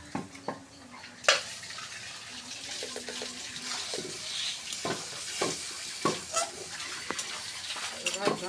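Beef curry with pointed gourd (potol) and potato fries and is stirred in a pot: a continuous sizzle runs under repeated scraping strokes and occasional clanks of the spoon against the pot, close and fairly loud.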